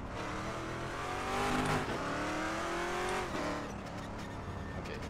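Race car engine in the RaceRoom racing game, droning steadily with rising and falling pitch sweeps as it revs and slows for a turn, with a brief tire-squeal texture.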